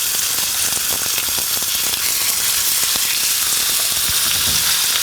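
Steady, loud sizzling of a tilapia fillet frying in a hot pan, a continuous crackling hiss with scattered pops throughout.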